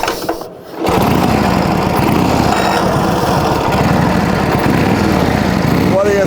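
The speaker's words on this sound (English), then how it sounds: "we're going to get this bike fired up" A 1935 Indian Sport Scout motorcycle engine catches after a kickstart and settles into a steady, loud, close-up running rumble that carries on to the end with little change.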